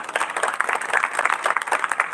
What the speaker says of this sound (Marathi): तुमच्या नियोजनासाठी सुद्धा एकदा जोरदार टाळ्या वाजवा